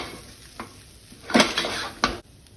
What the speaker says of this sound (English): It's important that you stir frequently in this step so you get a nice even cook on your rice.